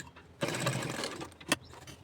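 A sewing machine stitches a centre seam on palazzo pants in one short, whirring burst, then stops, followed by a quick click.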